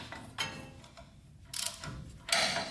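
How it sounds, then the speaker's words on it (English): Half-inch drive large ratchet tightening 17 mm brake caliper bracket bolts on a 2009 Toyota Tacoma 2WD front wheel, heard as a few short bursts of close ratcheting clicks separated by quiet pauses. "with a half drive large ratchet"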